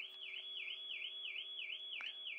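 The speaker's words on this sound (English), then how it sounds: "someone's alarm's just gone off." A distant electronic alarm wails in a steady, fast rising-and-falling siren pattern, faint and continuous.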